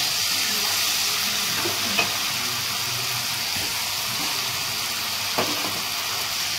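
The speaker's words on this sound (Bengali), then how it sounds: "আমার মাংস কষাচ্ছি, এর ভেতরেই আমি আলুটা দিয়ে কষবো।" Meat and potatoes sautéed in a pan for kosha give a steady, fairly loud sizzle, with a couple of faint stirring knocks; no talking.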